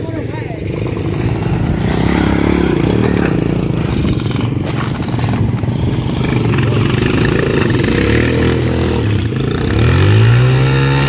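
A motorcycle engine revs and rumbles steadily at close range while exploring a cave site at Gunung Wangi, Pemalang, Central Java, rising in pitch near the end, with people talking over it.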